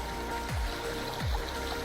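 Fast, cold river water rushes over a riverbed, a steady broadband wash with low thumps of current, close and continuous with no talk.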